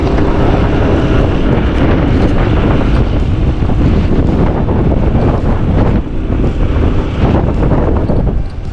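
Strong typhoon wind roars and buffets continuously, loud and close, with a rushing, turbulent texture throughout.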